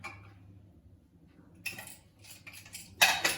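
A pressure cooker is set down and handled in a home kitchen, giving a few metallic clanks and rattles that peak in a loud clatter near the end, with no talking.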